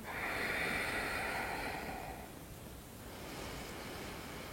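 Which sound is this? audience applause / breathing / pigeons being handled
breathing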